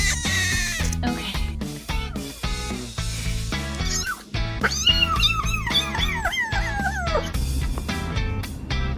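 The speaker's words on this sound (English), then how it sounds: "Meow. Meow." A cat meows repeatedly over a busy music track, with several drawn-out, rising and falling cries in the middle.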